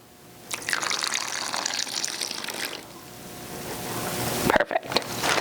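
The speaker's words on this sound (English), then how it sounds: "then slowly add your water." Water is poured slowly into a plastic bag of slime ingredients, giving a steady splashing trickle that swells and fades over a few seconds, followed by crinkling of the bag, with no talking.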